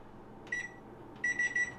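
A kitchen timer chirps as it is set: a short beep burst, a pause, then a quicker cluster of three or four shrill electronic beeps, faint and near in a quiet room.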